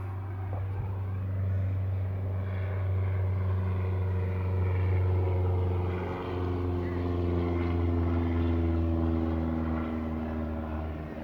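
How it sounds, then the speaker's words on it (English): A low-flying plane passes overhead as a steady, broad engine drone that swells and then eases over about eleven seconds, loud and continuous throughout. "Low flying plane."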